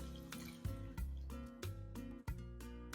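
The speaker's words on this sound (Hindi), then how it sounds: "इसमें 1 बोल पानी और डाल देंगे" Water poured into a pot of South Indian rasam with mashed tomato and tamarind, a steady splashing pour with a few louder gushes, close and fairly faint.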